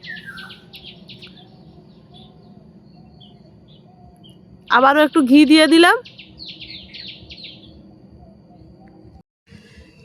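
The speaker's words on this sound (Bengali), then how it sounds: "ভয়েস দিতে বসছি, দেখুন কত পাখির ডাক" Birds call with repeated high chirps through the whole stretch, some distance off, while a person speaks briefly in the middle.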